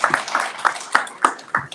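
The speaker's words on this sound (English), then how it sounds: "Clap it up for Dayvon." Sparse, rhythmic clapping from a small audience at a Black legislative agenda day event, about six distinct claps in quick succession, fairly near and moderate in volume.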